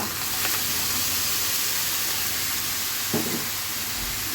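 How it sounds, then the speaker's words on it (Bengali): Pulao rice frying in a pan with turmeric and salt, a loud, steady close sizzle broken by occasional stirring scrapes. "এখন এই পোলাওগুলো দিয়ে নেড়ে চেড়ে মিশিয়ে নাস্তাটা তৈরি করে নিব সকালে।"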